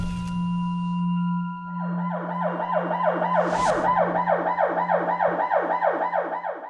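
An ambulance siren wails in a fast, repeating yelp pattern, loud and close, after a couple of seconds of steady engine hum; no one speaks.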